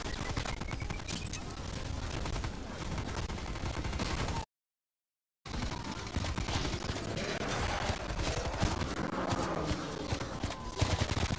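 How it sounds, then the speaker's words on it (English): Sustained gunfire in a Zombies video game, loud continuous shooting with dense overlapping shots, broken once by a sudden second of silence before the firing resumes just as heavily. "I'm shooting."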